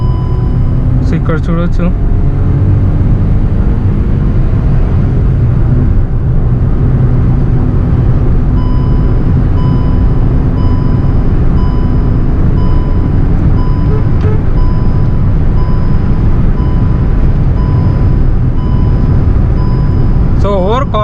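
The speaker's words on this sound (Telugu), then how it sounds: "సో ఇప్పుడు యాక్సలేషన్ ఇచ్చాను, కంప్లీట్ ఫుల్ యాక్సలేషన్." Hyundai i20 N Line car engine pulling hard under full acceleration, a loud steady drone with a gear change, heard from inside the cabin with someone talking over it.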